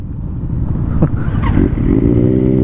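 A Benelli TNT 600 motorcycle with an aftermarket exhaust revs up loudly and close by, the exhaust note rising and holding at a steady roar.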